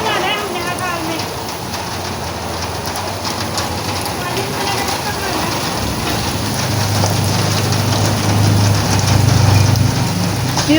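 Heavy rain pours steadily and loudly outdoors during a rainstorm, a dense continuous hiss that swells slightly toward the end, with a voice talking faintly underneath.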